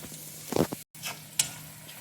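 Masala sizzles in oil in a pan for a crab and prawn roast, a soft frying hiss with a few scraping stirs and a brief gap of silence partway through.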